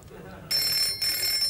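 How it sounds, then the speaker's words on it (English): A telephone bell rings in a domestic setting from a 1979 comedy sketch, two bright electronic bursts at close range with a short gap between them, coming straight after brief talk. "Yes, it is the phone."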